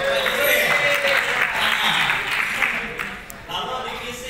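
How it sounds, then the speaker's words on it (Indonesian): Audience applause at a business training session, a burst of clapping that fades toward the end, overlapping with a presenter's voice over a microphone. "Tepuk tangan, Bapak Ibu."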